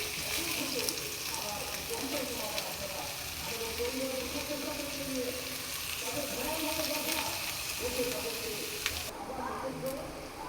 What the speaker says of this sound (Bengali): চালটাকে আমি খুব ভালো করে ভাজবো।